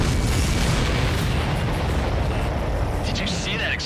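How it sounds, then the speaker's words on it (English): An enemy aircraft blows up in the PS4 jet combat game Ace Combat 7, a loud, sustained, rumbling explosion roar that fills the mix and slowly fades. "Did you see that explosion?"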